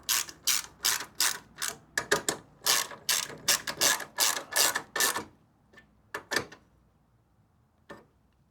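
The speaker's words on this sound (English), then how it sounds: "I just got a ratcheting wrench so I can get in there, get that last one tightened up" A ratcheting wrench tightens the rearmost bolts of a shift lever linkage on a 318 while the lever is held in neutral. Loud, rapid, close ratchet clicks come in steady back-and-forth bursts, followed by a few sparse strokes.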